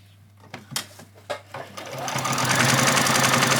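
A sewing machine stitches fabric for a pair of fairy wings, a few clicks and short starts before the motor rises into a loud, steady, close rapid whir.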